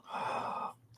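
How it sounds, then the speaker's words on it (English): Heavy breathing from a big man, one long, close and loud breath held for most of a second, then a faint, shorter breath trailing off. "I'm a heavy breather."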